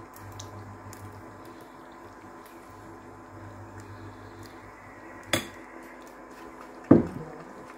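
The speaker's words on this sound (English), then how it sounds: "I'm adding our eggs." Whole eggs go into a pan of cooking pork belly: two sharp knocks and clinks against the pan stand out, the second louder, over a quiet, low kitchen background.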